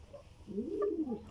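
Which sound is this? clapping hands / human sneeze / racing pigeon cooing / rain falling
racing pigeon cooing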